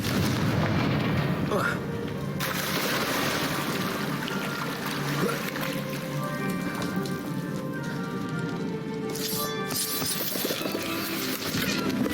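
The Confringo blasting spell in Hogwarts Legacy explodes in a loud, dense, continuous burst of booming, crackling fire that rumbles on for several seconds amid other game sound effects.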